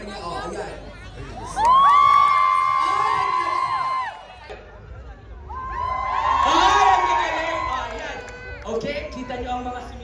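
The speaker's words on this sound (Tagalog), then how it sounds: "Sisigaw kayo pag dumaanan ko sa kanya." An outdoor crowd at a Philippine festival in Yoyogi Park, Tokyo, bursts into two loud waves of shouting, whooping and cheering as the host passes a contestant, with chatter between them.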